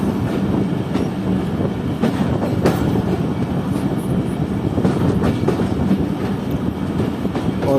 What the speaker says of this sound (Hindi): अभी हमारी ट्रेन सीधा जा रही है प्लेटफॉर्म की तरफ